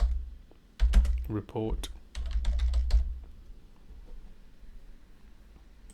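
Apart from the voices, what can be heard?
typing on a computer keyboard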